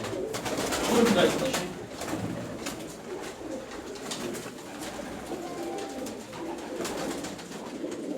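Pigeons cooing softly at a pigeon seller's shop in Turkey, amid steady background murmur and people talking close by.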